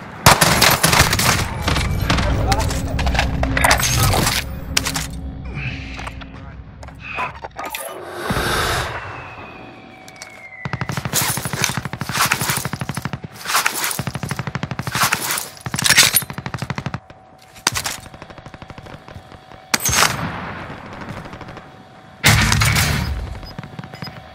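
Loud gunfire from the video game Call of Duty: Modern Warfare, with rapid automatic bursts and single shots in close succession, separated by brief pauses and quieter stretches.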